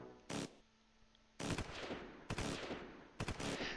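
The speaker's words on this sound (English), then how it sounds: "Let's hit these guys with the HMG" Heavy machine gun fire in the Close Combat IV wargame, several sharp rapid bursts separated by brief pauses, loud and close with no talking.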